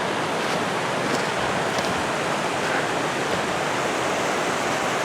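Steady rush of running water over rocks on a high alpine trail at Mount Rainier, loud and continuous with a broad, even roar and no voices.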